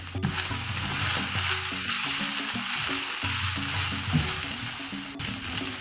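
Soya chunks fry in coconut oil in a pan, a steady loud sizzle with scraping stirring strokes throughout.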